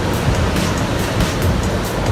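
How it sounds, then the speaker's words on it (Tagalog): Sea waves rolling onto the pebble and stone shore at Luna, La Union, a steady loud broadband wash of surf with no voices. "Ang ganda ng dagat oh."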